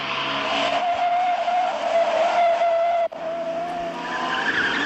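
A car tears along at high speed during a GoldenEye chase, a steady loud engine drone with squealing tyres holding throughout, one brief cut near the three-second mark, no voices.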